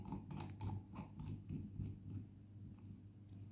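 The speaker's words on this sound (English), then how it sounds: "I am tightening the adjusting screw like this." A safety valve's adjusting screw being tightened against its spring, giving a run of close, quiet mechanical clicks and ratcheting creaks in a short, irregular rhythm over a low steady hum.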